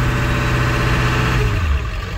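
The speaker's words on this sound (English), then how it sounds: "the engine's going to want to bog down when you give it any throttle" A Ford 7.3L Powerstroke diesel engine runs loud and close, its low steady drone sagging in pitch as it bogs down under throttle, with no talk over it.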